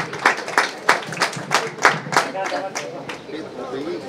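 Rhythmic clapping from an audience at a bookshop event for a football book presentation, with a dozen or so loud, regular claps that soften into scattered applause and a low murmur of chatter.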